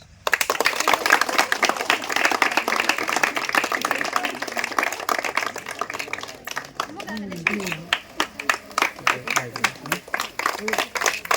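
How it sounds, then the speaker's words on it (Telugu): An audience at a political party gathering in Kurnool bursts into clapping, dense and fairly loud at first, thinning into scattered claps toward the end while a voice speaks over it. "claps claps"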